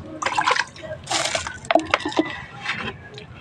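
Medicinal herbs are washed by hand in water, giving close splashing and sloshing bursts with drips and wet rustling across several short rounds and no speech.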